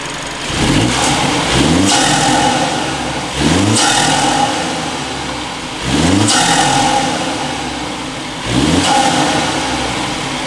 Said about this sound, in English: this is going to be a couple revs in sport mode